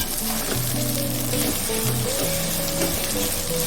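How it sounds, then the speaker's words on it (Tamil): Tomatoes sautéing in a pan while cooking chicken biryani, a steady close sizzle and frying crackle running throughout, with faint clinks and stirring sounds over it and no talk. "அது நல்லா மேஷ் ஆகிற வரைக்கும் வணக்கிக்கலாம்"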